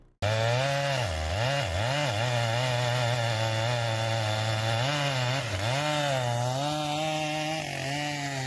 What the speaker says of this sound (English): With just a few powerful cuts, the tree is brought down swiftly.